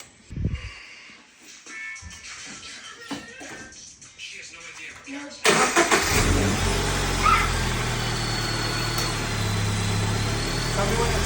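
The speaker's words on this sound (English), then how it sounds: "Start the car." After an oil change at home, a car engine is started. Quiet voices and light movement come first, then about halfway through the engine catches and runs loud and steady, close by.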